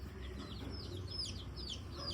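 Chicks and chickens clucking and cheeping in a steady overlapping chorus, with bright high peeps scattered over a constant low rumble of the flock.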